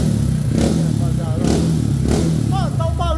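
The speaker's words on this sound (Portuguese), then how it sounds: "Deixa eu ver o barulho desse motor." A Honda Titan 160 motorcycle engine, fitted with a GRS exhaust, a performance camshaft and Athlon parts, revs up three times in quick succession over a steady idle, close and loud, with chirping sounds near the end.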